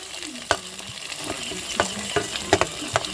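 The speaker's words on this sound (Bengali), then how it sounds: "এরপরে আমি আদা এই পেঁয়াজগুলো যে কুচিয়ে রেখেছিলাম সেই পেঁয়াজ কুচানোগুলো দিয়ে দিচ্ছি" Chopped onions and ginger frying in a pan with garlic, a steady sizzle broken by repeated stirring scrapes and clinks of a spatula against the pan, fairly close and without speech.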